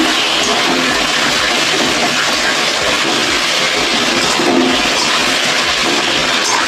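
Chunks of potato and papaya drop into a pan of oily spice paste and fry with a loud, continuous hiss and sizzle that holds steady throughout, close by with no talking.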